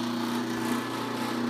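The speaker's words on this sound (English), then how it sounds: "You can do it with a hand drill, but I'm doing it on my drill press." A drill press boring holes through the side of a wooden carpenter bee trap, giving a steady, even motor whine with a strong hum throughout the short stretch, close and without talking.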